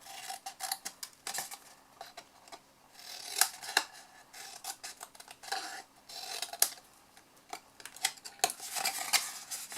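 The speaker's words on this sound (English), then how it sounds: "then we're going to cut the wedges out of the four corners here" Scissors snip wedges from the four corners of a folded card chocolate box, a quick series of crisp cuts and small clicks close by, with paper rustling between them and no talking.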